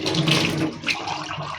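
Water poured into a mug in a kitchen, a short splashing gush that swells, dips briefly and continues, close and moderately loud.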